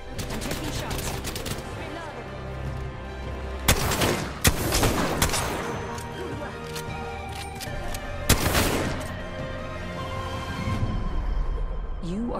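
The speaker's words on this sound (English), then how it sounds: "They spotted me. I'm taking shots." Gunfire in the video game Apex Legends: dense, rapid bursts of shots with a few sharp louder cracks, close and loud over a steady game soundscape.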